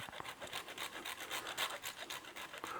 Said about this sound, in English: So now for the Parmesan with a very fine grater.